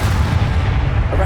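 An explosive Confringo spell blast in the video game Hogwarts Legacy, a loud, dense booming burst filling the whole short moment like close artillery fire.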